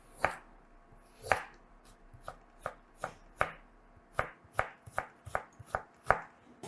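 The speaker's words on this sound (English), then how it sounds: "I'll show you how to cut the carrot like matchsticks" A kitchen knife cutting a carrot into matchsticks on a board for gimbap: a series of crisp, evenly spaced chops, about a dozen sharp strokes, close and clear with no talking.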